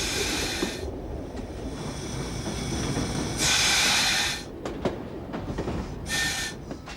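A train runs along a country single-track railway line approaching Battersby Junction, giving a steady rumbling roll with bursts of bright hissing and a few sharp clanks.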